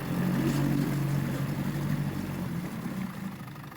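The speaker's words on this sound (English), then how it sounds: "So here it is, idling sweet as a nut." A 56-year-old Mercury outboard motor idles in gear, giving a steady, close, low mechanical drone with a faint rhythmic pulse that eases slightly toward the end.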